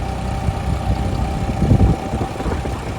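A generator engine runs on a farm during a power outage to supply water for a paddy seedling nursery. It gives a steady, close, low mechanical hum and idle throb that holds throughout with small swells.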